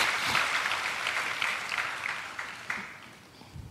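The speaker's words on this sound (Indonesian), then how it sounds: "Tepuk tangan yang paling meriah buat Tuhan Yesus." Congregation clapping for Jesus during a New Year church service, a dense sustained round of applause that gradually fades.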